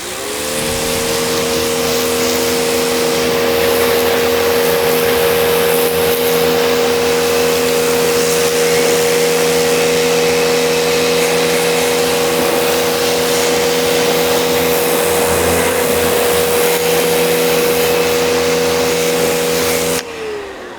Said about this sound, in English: You don't have to have a pressure washer, but it's gonna make your life a lot easier.